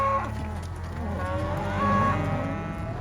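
Cattle near a round hay bale in a farm field beside a busy road, with close, loud, sustained lowing moos that rise and fall, and no speech over them.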